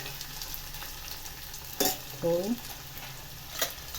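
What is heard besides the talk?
tomatoes, chillies and onion frying in pan for chutney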